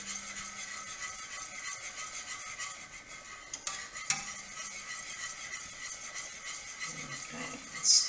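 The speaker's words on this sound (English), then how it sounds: "I'll get my whisk again, give it a stir." A whisk stirs a warm yoghurt mixture in a pot, giving a soft continuous scraping swirl with a few faint metallic clinks, fairly quiet and steady throughout.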